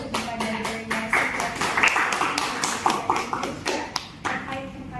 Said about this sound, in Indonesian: mari kita berikan tepuk tangan terlebih dahulu kepada delegasi